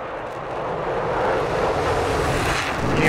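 A military jet in the DCS combat flight simulator, flying over desert during an Iran–Iraq war campaign, gives a steady, loud engine roar with wind-like rushing that holds throughout and has no voices over it.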